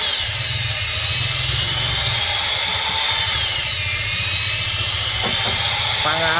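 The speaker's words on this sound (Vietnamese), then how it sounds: "Giờ nó khoan cái mỏ be này." Loud, steady power-tool whine of a drill boring into the damaged bow of a fishing boat, running continuously with low engine-like rumble beneath and a few brief tonal bursts near the end.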